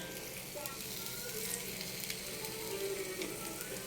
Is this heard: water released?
no